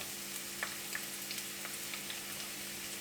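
Spring onion whites and five sliced shallots frying with garlic in a pan for vegetable Hakka noodles, a faint, steady sizzle with light crackles scattered throughout, with no talking.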